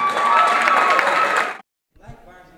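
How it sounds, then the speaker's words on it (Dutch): A burst of crowd applause and clapping runs for about a second and a half, cuts off abruptly, then a voice begins speaking. "Applaus!"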